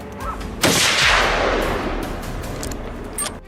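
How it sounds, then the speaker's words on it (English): A single loud gunshot rings out during a wild boar hunt, a sharp crack followed by a long rolling echo that fades slowly over several seconds, with no talking. "A precise shot tore through the air, racing against the fleeing target's speed."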